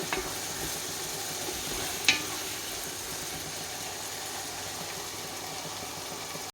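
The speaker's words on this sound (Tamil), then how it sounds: "தக்காளி சேர்த்துக்கலாம் தக்காளி வந்து நல்லா மசிஞ்சு வரணும் அந்தளவுக்கு நல்லா வேக விட்டுடலாம்" Tomatoes cook in a pan for Dindigul chicken biryani, a soft continuous sizzle and hiss held at an even level, with one brief sharp clink partway through and no voices.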